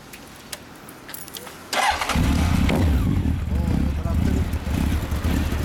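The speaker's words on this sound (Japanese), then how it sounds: "ほんなら森脇サウンドを聞かせてもらえますか" A Honda CB1300 Super Bol d'Or motorcycle with a Moriwaki exhaust starts up after a quiet moment, then settles into a loud, deep, steady idle close by, with brief talk before the engine catches.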